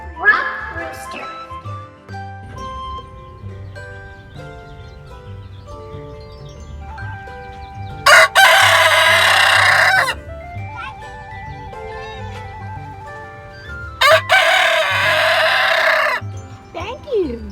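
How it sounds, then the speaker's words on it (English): A Barred Rock rooster lets out two loud, raspy crows close to the listener, each lasting about two seconds, with clucking and faint voices in the quieter gaps. "Roosters crow mainly during the day."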